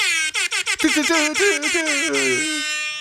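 A rap-style air horn blares in a rapid series of short blasts, then one longer sustained blast, loud and up close.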